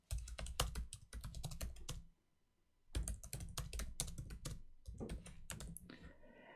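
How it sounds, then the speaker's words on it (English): Fast typing on a computer keyboard, dense close key clicks in bursts with a short pause in the middle, no voices. "The best thing to do is to type the text directly here."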